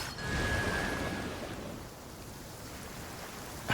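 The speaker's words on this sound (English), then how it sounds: "It's gonna make it rain." Rain summoned by hydro power in Genshin Impact, a steady wash of rain noise that swells early then settles into a softer constant patter.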